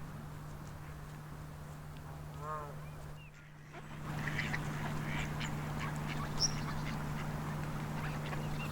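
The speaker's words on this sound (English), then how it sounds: "A winter visitor, the goosander, is the largest of the saw-billed ducks" A goosander, the large winter-visiting saw-billed duck, gives a brief run of nasal calls in a wild outdoor setting, with a steady low hum beneath and scattered faint bird chatter and rustling around it.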